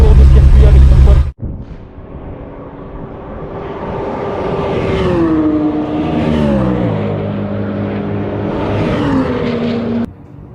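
A prepared BMW M3 E46 track car pulls away at a circuit, its engine note rising and falling through gears as it moves off, loud at first, then fading steadily into the distance.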